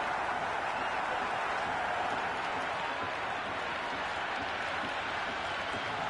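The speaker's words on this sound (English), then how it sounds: "The crowd is electric right now." Cricket stadium crowd at an India versus Pakistan ODI in Ahmedabad roaring and applauding a six, a dense, sustained wash of cheering and clapping that holds steady throughout.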